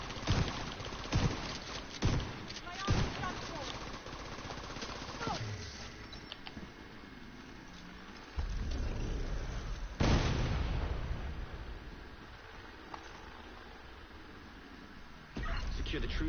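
Rocket launcher fire in a video game: several heavy booming blasts with rumbling tails, spaced irregularly, loud and close over game background noise.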